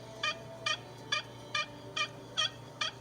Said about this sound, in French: les dindons font entendre un caquetement ou caquetage, un fly-down cackle, qui s'accélère jusqu'à être assez agité